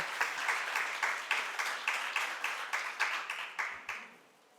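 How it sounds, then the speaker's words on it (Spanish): An audience applauds steadily, a dense wash of many hands clapping at moderate volume, then tapering off at the end. "Un aplauso."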